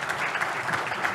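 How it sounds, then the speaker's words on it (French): Audience applause at an evening award ceremony held in a hall, a dense continuous wash of clapping from a seated crowd, steady and fairly loud throughout. "Les applaudissements."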